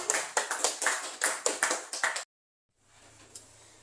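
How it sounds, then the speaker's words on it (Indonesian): Around ten sharp, rhythmic claps ring out in a classroom during a maths olympiad quiz, spaced evenly and close by. They stop abruptly, and after a moment of silence a faint room murmur follows. "betul. Tepuk tangan."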